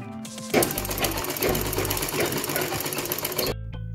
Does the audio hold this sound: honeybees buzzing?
no